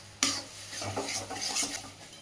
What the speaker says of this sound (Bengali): এরকম দেখো ভাজা ভাজা করতে হবে, তেল বেরিয়ে আসছে কি না।